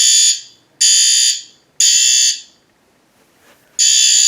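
A System Sensor fire alarm horn on a sync module blares in loud, piercing bursts, four long blasts separated by short silences, close and harsh with no voices.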